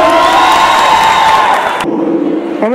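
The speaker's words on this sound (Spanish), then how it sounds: "Aplauso para Michael" A loud club crowd cheers and whoops with voices ringing out, then the noise cuts off abruptly partway through and gives way to a quieter, steady tone.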